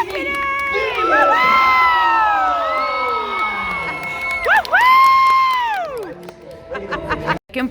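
Crowd of girls cheering and shrieking loudly for the winner at a dance competition, a sustained wave of high-pitched screams with a second surge of yells before fading out.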